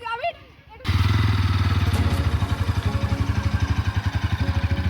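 A Bajaj Pulsar NS200 motorcycle engine starts running after a brief quiet moment with a voice, then holds a steady, close, pulsing idle-to-pull-away rumble as the rider begins to move off.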